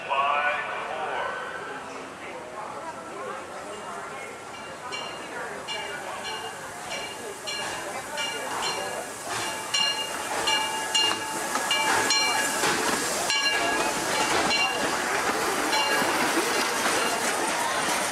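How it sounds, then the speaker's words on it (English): The Disneyland Limited steam train pulls into the station at Disneyland, with hissing steam and rumbling wheels growing louder over a busy crowd, and people talking nearby. "The Disneyland Limited, now arriving from a trip around Walt Disney's Magic Kingdom."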